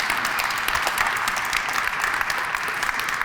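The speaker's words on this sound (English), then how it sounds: "We can give him a round of applause" Crowd applause at a community benefits ordinance signing ceremony: a sustained, even patter of many hands clapping at moderate loudness throughout, without speech.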